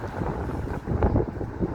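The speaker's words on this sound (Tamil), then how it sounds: "சரியான காற்று, செம காற்றடிக்குது." Strong wind gusting outdoors just before heavy rain, a rough broadband rumble that buffets the microphone, with swelling gusts and no talking.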